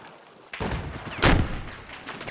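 Gunfire crackles during a tactical video game match as a shot hits a vehicle, with a sharp burst near the start and a louder blast midway, followed by fading rattles.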